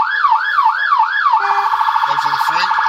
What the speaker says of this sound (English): The siren is worked off the console.